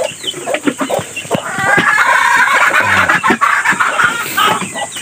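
Young chickens cluck and squawk in a busy, close chorus during feeding time, with a brief crow-like call and faint voices in the background.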